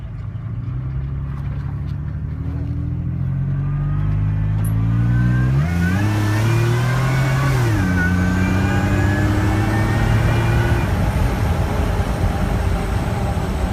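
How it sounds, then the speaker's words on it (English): A lifted, supercharged FJ with headers, cats and an aftermarket exhaust accelerating hard: a loud, close engine roar climbing steadily in pitch with a thin supercharger whine riding on top, no talking. "when you get on it, you can definitely hear the whine of the supercharger"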